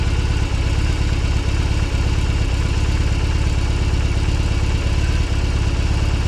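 A BMW R18 motorcycle's big boxer engine runs at low RPM in sixth gear, a loud, steady, throbbing drone with a low pulsing beat and no talk.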